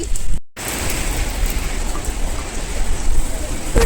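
Heavy rain pouring at the Murudeshwar seashore, where boats have stopped for the weather: a loud, constant broadband hiss of downpour that continues without a break apart from one brief dropout near the start.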